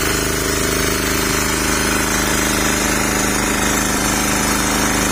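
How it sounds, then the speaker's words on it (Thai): Loud, continuous drone of a portable generator with a steady rattling chug, running without pause throughout. "เครื่องปั่นไฟ"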